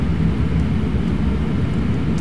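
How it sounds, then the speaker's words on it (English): Jet engine noise from a Boeing 737-800 in Flight Simulator X, a continuous low rumbling roar with a steady hiss on top, even and unbroken throughout. "the sound you hear is the sound of 4 Boeing 737 engines"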